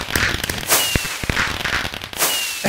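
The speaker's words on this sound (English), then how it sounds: "All the fireworks are blowing up down here because of the ceiling I put in." Fireworks bursting in a Minecraft world beneath a built ceiling, a rapid series of sharp cracks and pops with a few hissing whistles, loud and close throughout.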